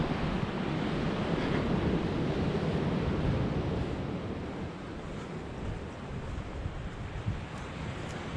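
Ocean waves wash in a steady, dense roar of surf and wind, constant and full throughout with a slight easing toward the end, and no voices.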